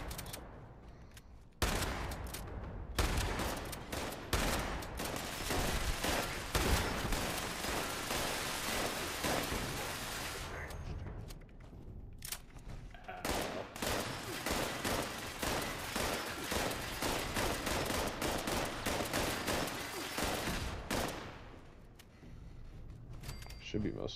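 Dense bursts of gunfire aimed at turrets in the video game Fallout 76 rattle almost continuously in long sustained volleys with a few brief pauses, while a player talks over the shooting.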